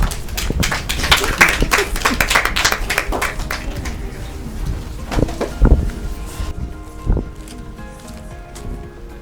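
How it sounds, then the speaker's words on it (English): An audience at a Children's Day special claps loudly and densely, dense clapping that thins out partway through, leaving scattered claps and background noise. "Clap for him"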